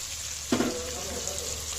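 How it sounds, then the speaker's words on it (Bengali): Vegetables frying lightly in a pan for fried rice, a soft continuous sizzle with one brief stir or clatter near the start, steady and close. "এই যে এদিকে ফ্রাইড রাইসের জন্য সবজি দিয়ে দিয়েছি সবজিগুলো আমি ভেজে নিচ্ছি প্রথমে হালকা"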